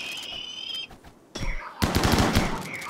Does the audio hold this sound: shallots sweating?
no